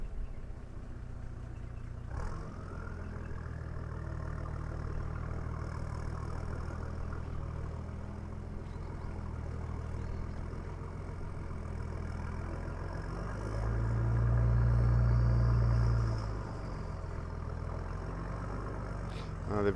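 A vehicle engine starting after being stuck in water rumbles at a low idle throughout, swelling louder for a few seconds midway before settling back to a steady idle.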